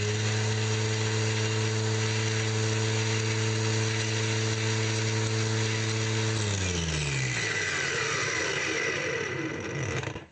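A cordless Heimerdinger LB183 angle grinder spins up at maximum speed with a loud, steady high-pitched motor whine that holds for several seconds, then drops in pitch as it winds down near the end.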